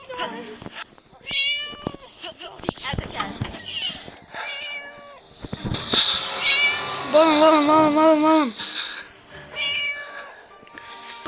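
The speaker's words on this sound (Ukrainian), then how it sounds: "Котик рам. Тикаем котик." Repeated cat meows, some drawn out and wavering, come close and loud, interleaved with someone talking softly.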